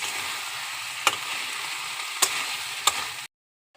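Vegetables frying in a pan, with cauliflower among them, give a steady close sizzle. Three sharp clicks of a spatula or spoon against the pan mark the stirring, and then the sound stops suddenly.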